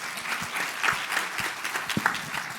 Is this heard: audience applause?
yes